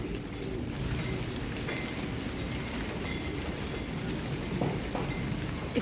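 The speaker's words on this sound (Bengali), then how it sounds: "একটু চুপচাপ থাকলে পাতার উপরে বৃষ্টি পড়ছে খুব সুন্দর একটা সাউন্ড" Light rain falls on plant leaves in a rooftop garden, a soft, steady patter at moderate distance with a faint broad hiss, alone and with no voices.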